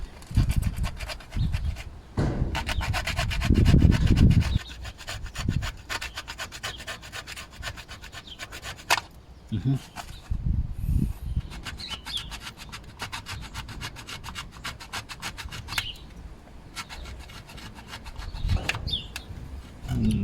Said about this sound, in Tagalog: Try natin lagariin.